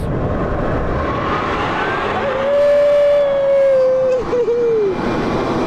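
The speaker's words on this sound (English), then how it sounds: "While the McMurtry's fan is primarily designed to give the car maximum performance, you can also use it for some other activities" The McMurtry electric car's downforce fan whirs up to a loud, steady high-pitched whine over a rushing air roar, holding for a couple of seconds before dipping and fading, with brief thumps near the end.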